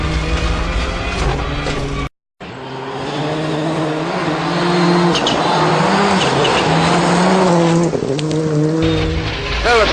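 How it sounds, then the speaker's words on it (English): A rally car power slides through a corner, its engine loud and close, revving up and down with gear changes under a broad roar of gravel and tire noise, with a brief dropout early on. "You turn and you get on the power and you have a nice slide all the way through the corner."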